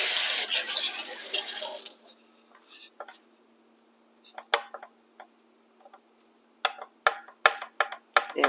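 A kitchen tap runs strongly for about two seconds while fingers are rinsed during apple crisp baking, then cuts off, leaving scattered quiet clicks and knocks of handling nearby.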